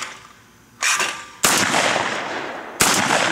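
Shotgun blasts at clay targets ring out outdoors: three sharp, loud reports spaced about a second apart, each followed by a long echoing decay.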